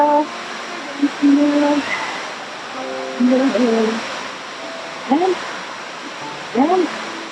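A dancing water fountain at Disney's Aulani Resort gives off a steady hiss of splashing water. Voices and short calls rise above it now and then.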